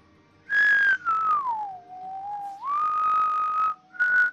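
A person whistles a sliding tune alone at close range: a few bright held notes that swoop down and back up, then a short final note.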